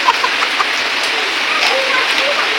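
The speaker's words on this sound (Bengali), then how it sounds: "কি বৃষ্টি পড়ছে বন্ধুরা" Heavy monsoon-style rain pours down loud and close, a dense unbroken roar with scattered patters of drops on surfaces throughout.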